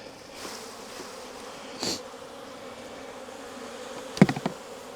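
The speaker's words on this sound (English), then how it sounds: "Some bees." Steady buzzing of many honeybees around a hive during a frame inspection fills the clip, with a louder burst of close wing noise and a few sharp knocks near the end.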